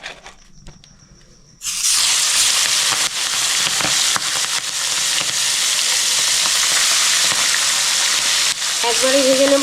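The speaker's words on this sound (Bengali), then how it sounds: "এবার চিংড়ি মাছটা দিয়ে দিচ্ছি।" Prawns coated in salt and turmeric drop into hot oil for a Bengali prawn curry, bursting from near quiet into a loud, sustained close-up sizzle and spatter that continues to the end.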